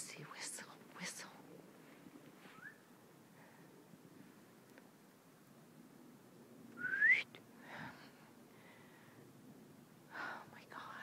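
A person gives a short rising whistle in quiet woodland at night, faint and outdoors, with soft whispering and breathing around it and a few scattered brief sounds.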